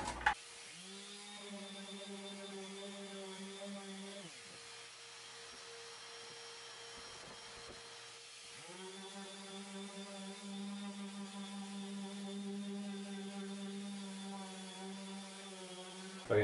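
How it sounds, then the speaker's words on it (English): An electric sander running over painted wooden drawer faces, a steady high-pitched motor whine with a brief pause midway before starting up again, loud and close with no talking. "Now that I've painted them all, I'm going to take my sander,"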